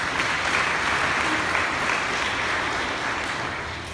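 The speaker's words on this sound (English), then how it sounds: "You can hear everybody's clapping for you." Church congregation clapping at Sunday Mass, a loud, full, continuous round of applause from many people that tapers slightly toward the end.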